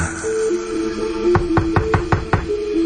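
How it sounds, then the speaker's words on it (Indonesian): Knocking on a toilet door in a radio horror drama: a quick run of about six firm raps, fairly close, over a steady low background drone. "Aku pun coba mengetuk lagi"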